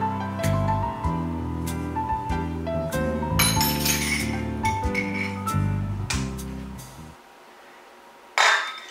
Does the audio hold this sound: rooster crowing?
no